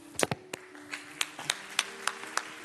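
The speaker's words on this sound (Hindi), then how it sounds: "जोरदार तालियां हो जाए प्रियांशु के लिए।" Scattered hand claps from a small audience on a kids' TV show, about a dozen distinct claps in an uneven rhythm, nearby and moderately loud rather than a full roar of applause.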